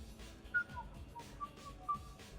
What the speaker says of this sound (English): Are you whistling? Nonchalantly.